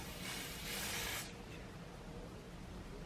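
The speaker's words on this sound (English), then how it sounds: "This is the olive oil super hold Fix It spray by ORS." An ORS olive oil super hold Fix It hair spray gives one quiet, steady hiss of about a second as it is sprayed across a hairline, then fades to low background noise.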